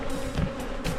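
Honey bees buzz steadily around beekeeping equipment just after frames are moved from one hive box to another, a close, continuous drone with slight swells and no voices.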